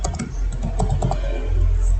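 Someone types on a computer keyboard while entering database commands, producing a quick, close run of irregular key clicks with no voices.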